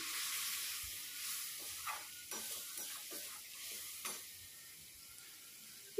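Green chili paste frying in hot oil in a pan for katla fish curry, a soft steady sizzle with irregular stirring scrapes and clicks, close and fairly quiet with no speech.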